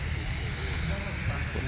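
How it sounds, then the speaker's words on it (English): A vintage steam-powered saw at a Gloucestershire country and vintage show hisses in a steady, loud, continuous rush of steam with a low rumble beneath it, heard nearby and without pause. "Steam powered saw here"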